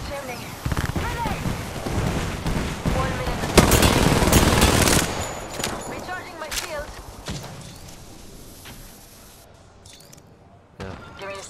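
Video game gunfire with rapid bursts of automatic shots, loudest in a dense stretch near the middle, mixed with players talking over the game.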